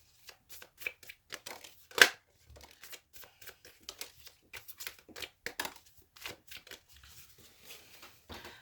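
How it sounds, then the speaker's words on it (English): Tarot cards are handled and shuffled close up, producing quiet irregular riffles, slaps and papery flicks, with one sharper snap early on and soft gaps between bursts. "Let's get some tarot cards out, please, for Aries."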